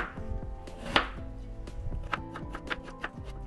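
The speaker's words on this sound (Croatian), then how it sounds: "I ovaj jedan veći krompir isjećemo također na komade manje." A large potato is chopped into smaller pieces with a knife on a cutting board, giving a series of crisp, irregular close-up thuds and taps with no talking.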